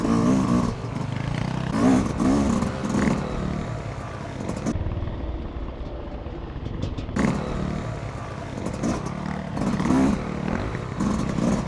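Yamaha YZ250 two-stroke dirt bike, new and being broken in, ridden around a motocross track at Brushy Mountain Motorsports Park; the engine rises and falls in repeated revving bursts with a short easing-off in the middle, staying fairly close and loud throughout.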